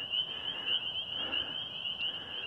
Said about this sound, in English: You can hear the frogs on this warm February 3rd day.